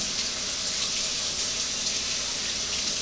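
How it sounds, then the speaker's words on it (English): Tap water running steadily into a sink while a hand is rinsed during cookie baking, a continuous even hiss at moderate level throughout, with no voices. "I'm just rinsing off my hand"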